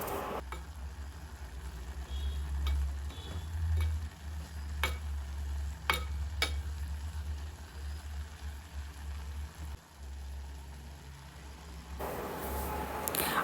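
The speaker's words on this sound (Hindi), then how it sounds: "तो मैंने एग्जैक्टली 1 कटोरी भर नारियल की गरी यहाँ पे ली है और इसको अच्छे से मिक्स करके लेना है" Grated coconut being stirred into a Goan vegetable bhaji in a pan, a steady low scraping and soft sizzle running continuously, with a few sharp clicks of the spoon against the pan.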